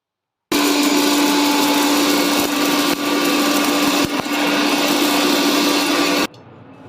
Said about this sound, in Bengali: তারপরে এটাকে মিক্সিতে গুঁড়ো করা হলো